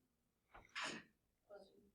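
A single sneeze indoors during a lecture, a sharp inhaled catch followed by a loud, breathy burst, then a short voice afterward, close and otherwise quiet.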